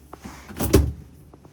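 A residential refrigerator door in a 2022 Showhauler 35KQSSL RV is popped open from its travel lock, giving one brief, close thunk with a short rattle and no talk.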